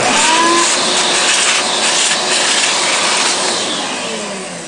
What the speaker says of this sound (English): I keep the shop vac right handy so that I'm not blowing the chips all over